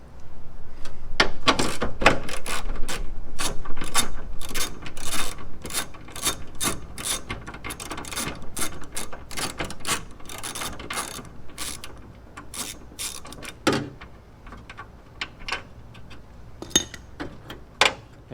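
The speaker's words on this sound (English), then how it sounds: "Hey, I know how to use a ratchet." Ratchet tightening bolts on a lightweight window mount, with rapid, loud clicking bursts that run continuously at first, then break into shorter, spaced runs toward the end, close and alone.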